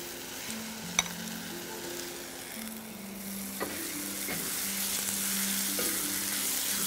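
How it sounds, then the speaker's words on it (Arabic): Small peeled, diced potato cubes sauté in a pan with meatballs for a meatball and potato soup, a steady, close sizzle and crackle with a few faint clicks of stirring, with no talking. "بشوح البطاطس برضو تشويحة خفيفة"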